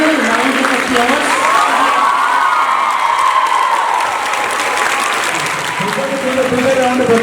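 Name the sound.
audience applause for staff members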